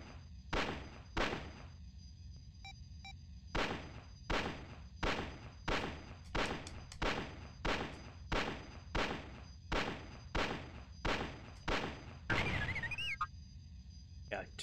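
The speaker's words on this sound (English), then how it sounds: "I'm shooting them anyway." An X-Wing's laser cannons firing at escape pods in the video game Star Wars X-Wing, a long series of sharp, evenly paced shots, mostly in pairs, with a steady electronic hum running underneath.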